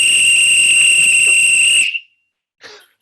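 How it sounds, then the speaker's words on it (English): A loud, piercing referee's football whistle blown as a single long final blast of almost two seconds, followed by a brief quiet gap and a short human sound. "as I like to finish every football school chat with a final whistle"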